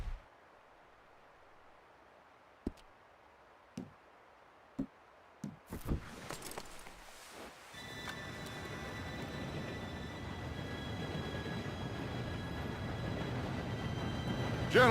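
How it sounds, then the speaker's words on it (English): A train approaches in the Red Dead Redemption 2 video game on PC: a few sharp, isolated knocks give way to a steadily building, rumbling roar with a faint high whine, growing louder over time. "Train should be here any minute now"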